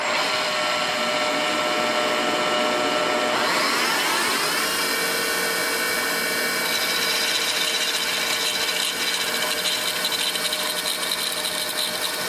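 A drill bores out Fiat 750 cylinder head bolt holes from 8mm to 10mm, a steady loud whirring grind with a rising pitch sweep early on, then sustained cutting noise throughout.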